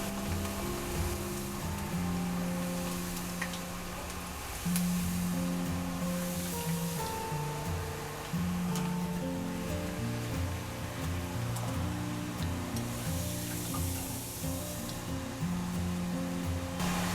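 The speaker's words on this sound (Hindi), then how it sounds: "तेल बहुत ज़्यादा गरम है। तेज आंच पर 1 से 2 मिनट तक ही फ्राई करना है।" Dried chana frying in very hot oil over high heat makes a steady, dense sizzling crackle that runs throughout, with a low tonal hum underneath and no speech.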